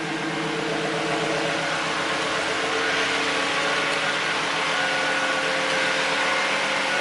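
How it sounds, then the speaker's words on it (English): A 2001 Ford Focus ZX3 with an eBay aftermarket exhaust sends out a loud, steady droning engine note that holds nearly constant and close, with no talking over it. "let me rev it up for you guys"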